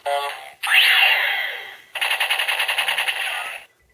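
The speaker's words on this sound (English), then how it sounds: "your typical machine gun noise" A DX Fourze Driver toy Gatling module plays its electronic effects: a short tonal chime, a sweeping synthesized whoosh, then a rapid pulsing machine-gun burst of about a dozen shots, loud and close, with no talk.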